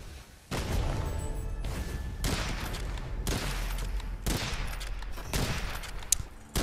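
Repeated heavy blasts and gunfire in the dark fantasy shooter Witchfire, several loud booming bursts in a row with rumbling tails between them.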